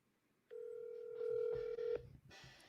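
A telephone gives a single sustained electronic dial tone for about a second and a half, close and clear, followed by faint clicks and rustle as the call connects.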